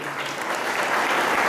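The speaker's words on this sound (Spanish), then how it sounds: "Vamos a recibirlo con un aplauso" A crowd applauds at a municipal 27th anniversary celebration in Santa Rita, filling a brief moment with a continuous, fairly loud wash of clapping.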